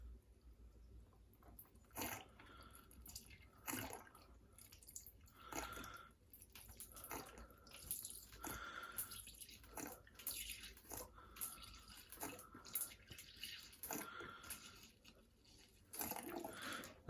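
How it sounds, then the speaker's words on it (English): Finish rinse aid poured into the dispenser of a Bosch Serie 2 SMS25EW00G dishwasher, faint intermittent glugging and dripping liquid with small clicks, quiet and close. "So as I said then, we will fill it up with some rinse aid and salt."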